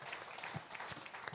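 A church congregation applauding a newcomer, a brief spell of scattered clapping heard from a distance, fairly faint with no voices over it.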